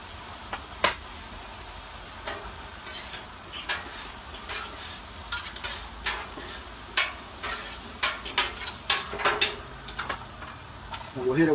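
Steak and shrimp hibachi sizzle quietly on a Blackstone griddle after soy sauce is added, with scattered sharp clicks and scrapes from utensils on the flat-top becoming busier toward the end.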